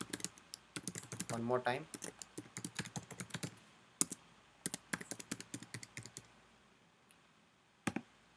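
Typing on a computer keyboard during a React and Firebase login demo, with bursts of quick clicky keystrokes spread across the clip and a few isolated taps later, while someone talks briefly over it.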